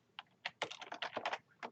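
Short burst of computer keyboard typing as a command is entered at a network access point's boot menu, roughly a dozen quick, close keystrokes with brief pauses, no voices.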